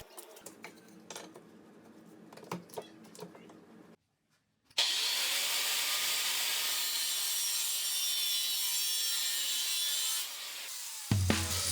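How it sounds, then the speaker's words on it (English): Aluminum posts for a roof gutter being cut with a saw, a loud steady high-pitched cutting roar lasting several seconds after some light handling clatter and a brief pause, ending abruptly. "Next, I cut a bunch of aluminum posts that would attach the gutter to the roof."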